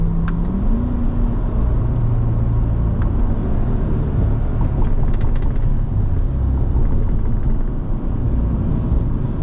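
A Corvette C8 Dubai Edition drives with a loud, continuous engine drone and road rumble from inside the cabin, its pitch stepping up briefly at the start before settling into a steady hum.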